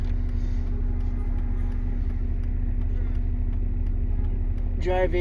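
A Toyota car drives along, a steady low rumble of engine and road noise heard from inside the cabin while a person talks over it.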